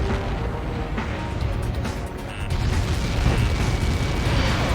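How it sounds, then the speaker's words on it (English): A huge blast in the Ace Combat 7 air-combat game, a dense, rumbling wall of explosive noise that rolls on and swells louder partway through, with no voices over it. "He got caught in that explosion."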